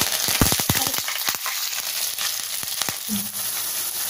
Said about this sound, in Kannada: ಈಗ ಇದನ್ನ ಮೀಡಿಯಂ ಫ್ಲೇಮ್ ಅಲ್ಲಿ 2 ರಿಂದ 3 ನಿಮಿಷ ಫ್ರೈ ಮಾಡ್ಕೊಳ್ಳೋಣ